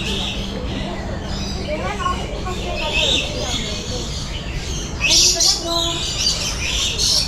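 Birds chirping and calling throughout an aviary at Singapore Bird Paradise, a steady mix of tweets and squawks with background murmur and a brighter burst of calls near the end.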